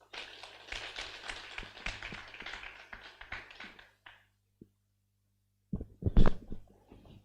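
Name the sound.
conference audience applause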